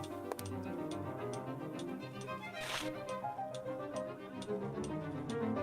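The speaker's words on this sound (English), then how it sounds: "What is this ticking noise?" Steady clock ticking in the Sherlock Holmes game The Case of the Silver Earring, regular evenly spaced ticks running throughout over a layered ambient music background, no voices.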